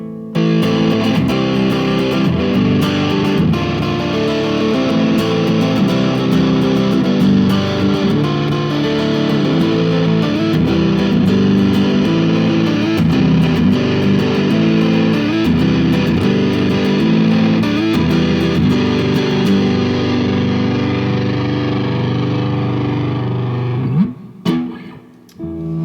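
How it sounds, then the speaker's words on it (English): Heavily distorted, fuzzy electric guitar played loud and continuous through a Big Muff fuzz pedal, thick sustained chords droning for a long stretch before cutting off near the end. "Big Muffs are just super fun. Like huge distortion."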